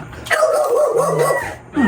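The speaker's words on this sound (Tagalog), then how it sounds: "Ay, may aso pala doon. Sama silang aso." A dog yelps and whines in a drawn-out, wavering cry, loud and close, ending with a rising yip.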